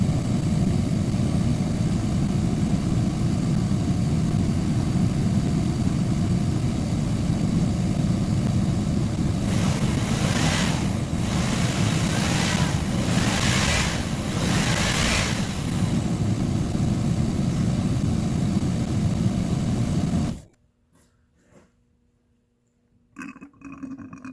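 A car engine idles with a loud, steady drone as the new water pump draws coolant into the system; a brief rising rev swells midway, then the engine cuts off, leaving near silence.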